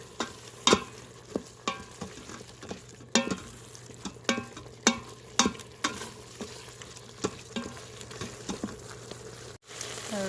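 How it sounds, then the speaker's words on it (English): White wine and Dijon mustard stirred in an Instant Pot while deglazing the bottom for beef stroganoff, with a soft bubbling sizzle under repeated crisp spoon scrapes and taps at an uneven, steady pace, no talk. "Give that a good stir. Still deglazing the bottom of the pan."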